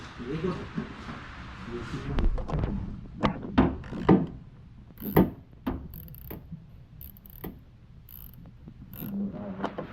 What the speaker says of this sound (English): To take this windshield wiper motor out, there are 4 10mm screws here, here, here, and here.